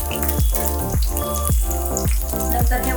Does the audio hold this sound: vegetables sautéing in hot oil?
yes